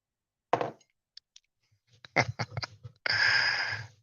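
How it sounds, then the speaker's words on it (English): Someone clears their throat: a few short, rough bursts, then a longer, harsh, breathy rasp at the end, close and fairly loud. "Let me clear my throat."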